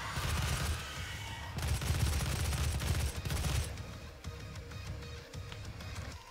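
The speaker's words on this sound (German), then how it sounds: "Das klappt doch mit dem Maschinengewehr am besten." Machine gun fire in the video game Doom rattles in rapid continuous bursts, with a long sustained volley followed by shorter, quieter shots.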